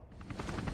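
Helicopter in the Spider-Man 3 video game, a brief rhythmic rotor chop with a low engine rumble, moderately loud and steady, with no voices.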